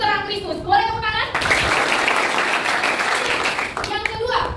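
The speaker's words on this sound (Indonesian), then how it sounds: "Boleh tepuk tangan?" A classroom of students bursts into a few seconds of steady group hand clapping, with a person speaking just before and just after the applause.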